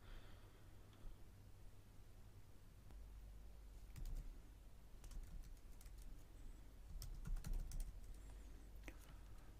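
Fingers type on a computer keyboard to log in as root on a Linux virtual machine, producing scattered light key clicks in short bursts. The sound is faint and close over a low steady hum.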